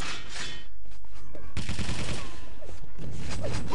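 Rocket fire in a Quake duel, a rapid burst of loud blasts and explosions from close range, dense game sounds throughout.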